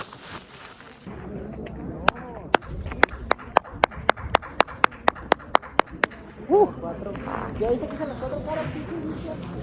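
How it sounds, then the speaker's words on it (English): A series of sharp, regularly spaced hand claps rings out among ancient Mayan ruins near a ball court, each clap echoing crisply off the stone, with voices talking faintly before and after the sequence. "if you clap, it echoes back here at this spot"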